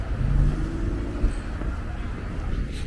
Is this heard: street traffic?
yes